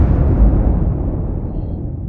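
A deep explosion from Bothan missiles in Homeworld 2 with a Star Wars mod, a heavy low boom that rumbles and slowly fades away, with nothing else over it.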